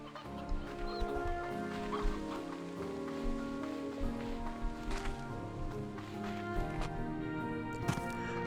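A flock of chickens in the video game Slime Rancher 2 clucks continuously, overlapping calls layered over rain-like patter and a soft musical backdrop.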